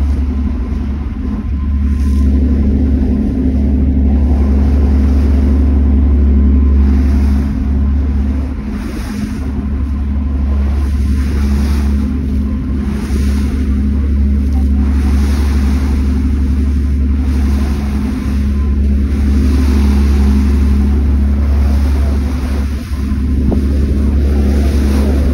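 Halifax Transit ferry Viola Desmond pulling away from the Halifax Ferry Terminal, its engines a loud, steady low drone throughout, with wind and water wash layered on top and no voices.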